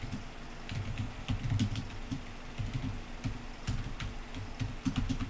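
Steady clatter of keys on a computer keyboard as C++ code is typed, irregular bursts of close, fairly quiet taps with no talking.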